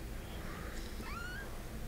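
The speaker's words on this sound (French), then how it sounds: "Miaou, miaou, c'est là." A kitten gives a faint, rising meow or two, far from the microphone and buried under a constant low background hum.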